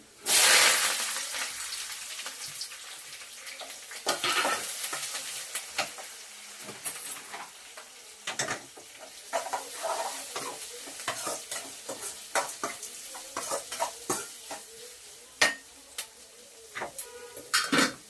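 Mustard seeds, chana dal, onion, green chilli and curry leaves frying in a pan for Tamil-style poori masala, a steady close sizzle broken by frequent sharp stirring scrapes and crackles, with no voices.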